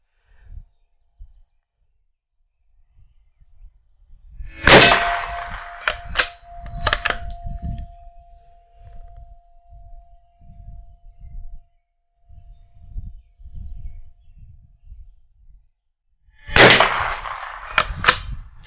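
An H&R Targeteer model 265 rifle fired at steel targets: two sharp shots far apart, the first leaving a clear metallic ring that fades over several seconds, with quiet low rumbles in between.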